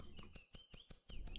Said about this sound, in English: there's the crickets chirping in the background